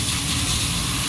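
Water sprays over an air-conditioner condenser near its fan motor, making a steady, close hiss that holds evenly for the whole second with no talk.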